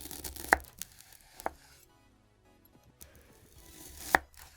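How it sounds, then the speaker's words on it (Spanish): Close, crisp knife chops through a strawberry on a board, about three sharp cuts spaced across a quiet background with faint handling noise, in an ASMR-style AI-generated food clip. "una mano cortando lo que es una fresa"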